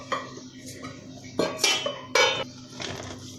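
A spoon scrapes and clanks against a pot while chicken biryani with homemade masala is mixed, in several loud metallic strokes over a steady low background hum.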